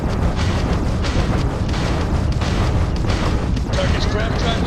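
Spaceship weapons fire and explosions in the Starfield space combat game, a dense continuous barrage of booms and bursts that stays loud for several seconds.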